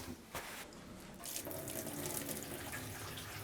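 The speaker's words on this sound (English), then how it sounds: "And the sink's now draining" Tap water running into a sink and draining after the pipes under it were unblocked, a continuous splashing gush that swells louder midway, with no talk over it.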